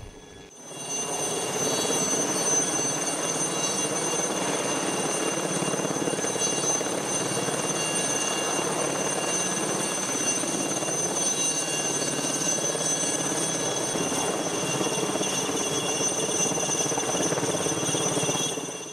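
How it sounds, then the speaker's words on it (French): Steady, loud rotor and engine drone of a multipurpose transport helicopter, continuous for the whole stretch with no voices. "un hélicoptère spécialisé dans le transport polyvalent"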